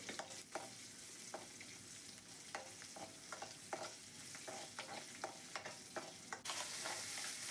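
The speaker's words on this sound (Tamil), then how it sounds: "பூண்டு ஒரு ஒரு நிமிஷம் நல்லா வதக்குங்க" Garlic sautéing in a pan for a bitter gourd curry, a steady soft sizzle broken by repeated scraping strokes of a spoon stirring against the pan, with a louder burst of hissing near the end; no speech.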